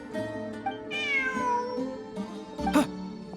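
A cat in the video game Genshin Impact gives a clear, close meow that bends downward, followed by a shorter second mew. Soft game ambience hums underneath, and there is no talk.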